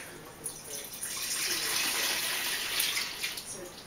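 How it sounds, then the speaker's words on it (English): Buttermilk from homemade butter pours from a jar into a colander, making a continuous soft splashing trickle close by that lasts the whole moment without pause. "we're just going to pour this into the colander."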